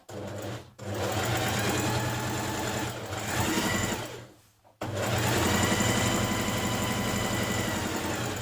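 Sewing machine stay stitching dress fabric (New Look 6567) runs in a loud, close, steady mechanical whir, pausing briefly near the start and again for a moment past the midpoint before resuming.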